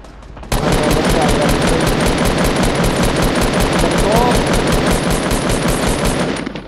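Rapid automatic gunfire from a shooting video game, dense and loud, bursts of rattling shots running nearly the whole time with a player's voice faintly underneath.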